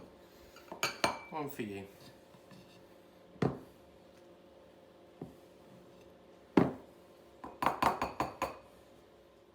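Buttercream spooned into several bowls for cupcake flavourings, heard as sharp clinks and taps of a spoon against bowls in clustered bursts with quiet gaps, close by, with a voice speaking briefly.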